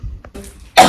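One loud, harsh cough near the end from someone recovering from COVID, after a few faint throat noises and a moment of quiet.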